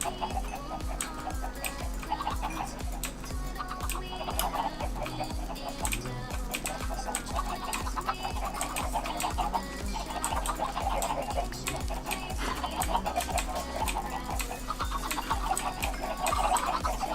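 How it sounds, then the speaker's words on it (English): Chickens cluck in a Minecraft world, a steady run of short blocky clucks and game ambience repeating over a constant low hum, moderately loud with no talk. "Hello, chickens."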